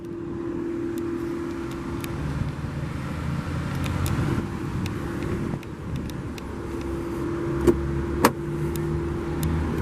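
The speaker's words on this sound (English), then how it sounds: "Bring the automatic driver's side window back up." A 2010 Volvo S80's driver's side power window motor runs as the glass closes: a steady electric hum with a few sharp clicks near the end, heard inside the car with no talking.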